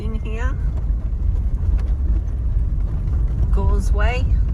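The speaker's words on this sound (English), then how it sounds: "So we've got a little creek crossing here." 4WD vehicle crossing a small creek on a bush track, steady low rumble of engine and tyres with a continuous wash of water, occasional voices talking over it.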